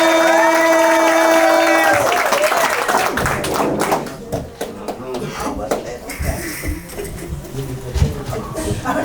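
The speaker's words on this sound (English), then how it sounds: "Put your hands together and start making some noise for Blessings!" At a spoken word poetry event, a crowd applauds and cheers for a performer, with loud sustained clapping and whoops following a host's voice.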